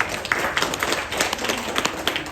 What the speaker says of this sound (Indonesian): Sekali lagi saya ingin mengajak tepuk tangan untuk kita semuanya.